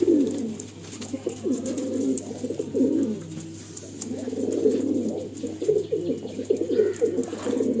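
Pure Andhra pigeons, a high-flying breed, coo steadily and close up in low rolling phrases, with a constant low hum underneath and no talking.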